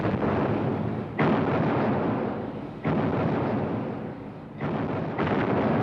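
Artillery shells bombarding a town in a reconstruction of the 1914 Scarborough attack: three or four heavy booming blasts at intervals, each followed by a long rumbling roar that fades slowly.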